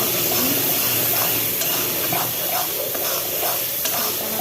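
Fish masala frying and being stirred in a pan, a steady loud sizzle with scraping strokes from the spatula, close and uninterrupted, no voices.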